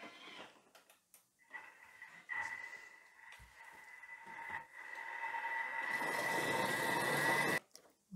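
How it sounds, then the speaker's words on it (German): A Thermomix running at speed 9 purees tomatoes for homemade tomato paste: a steady, rising whir that swells into a loud, dense roar near the end before cutting off, close by with no talk. "ohne Temperaturstufe 9 pürieren."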